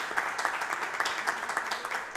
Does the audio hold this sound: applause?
yes